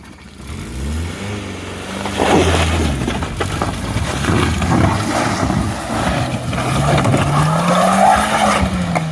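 A car climbs a rocky green lane in the Yorkshire Dales, its tyre walls scraping against the rocks. The engine revs loud and close in shifting, labouring pitches, mixed with grinding scrapes and tyre squeals, with no talk.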